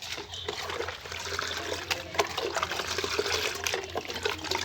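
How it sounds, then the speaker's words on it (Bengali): Fertilizer mix, including muriate of potash, being stirred into one litre of water for a hibiscus feed, giving a steady close-up swish and trickle of liquid that runs without a break. "দিয়ে আমরা খুব সুন্দর করে একটু গুলিয়ে নেব।"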